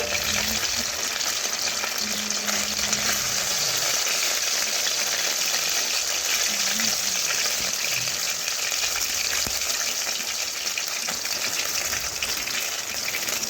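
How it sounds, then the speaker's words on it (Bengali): Half a bowl of water goes into a hot kadai after fried chicken is lifted out, setting off a loud, steady hiss and sizzle. The frying noise runs evenly throughout, with faint clinks of stirring and no voices. "এখন ওই কড়ার মধ্যে আমি দেব হাফ বাটি জল"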